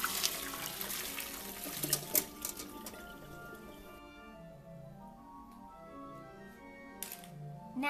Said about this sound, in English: Pour on enough cold water just to have them covered.